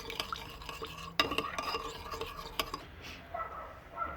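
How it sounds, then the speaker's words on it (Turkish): A spoon stirs an eggplant pickle mixture with salt in a bowl, making soft, close scraping and clinking strokes in an irregular rhythm, fairly quiet and with no talk. "Sonrasında iyice karıştıralım şu şekilde."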